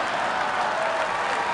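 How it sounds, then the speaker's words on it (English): A political convention crowd applauds in a short, steady roar of many hands clapping throughout the hall. "I bet you never thought Hillary would get an applause at this convention."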